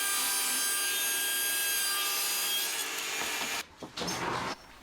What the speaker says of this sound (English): I'm going to get the table saw set up and do it on that